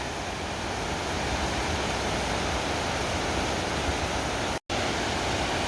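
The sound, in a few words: rushing river water released from an open dam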